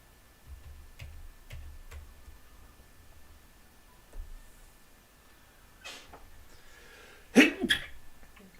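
A single sharp sneeze bursts out near the end, preceded by faint ticking and small clicks in a quiet room during a drawing session.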